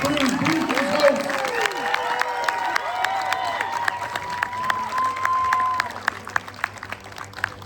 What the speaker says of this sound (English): Give a round of applause for Steve Burns, Donovan Patton, and Josh De La Cruz.